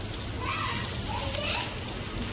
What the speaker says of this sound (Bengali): পেঁয়াজগুলো দিয়ে আমি একটু নাড়াচাড়া করে ভেজে নেব ভালো করে, যতক্ষণ না লাল হয়ে আসছে